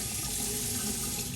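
Water runs steadily from a bathroom tap while a safety razor is rinsed after shaving, a continuous close hiss of flow with no voices over it.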